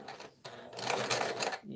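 A sewing machine runs a quick test stitch while making a tote bag, its rapid mechanical whirring starting and stopping in bursts, with a voice talking over it.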